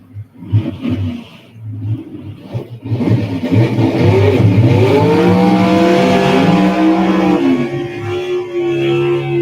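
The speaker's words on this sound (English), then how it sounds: "Long smoky burnout, high winding small block Chevy" A 1962 Chevy II wagon with a high-winding small-block Chevy V8 does a long, smoky drag-strip burnout at a gasser race, the engine revving up into a sustained loud scream with screeching tires, close and dominant.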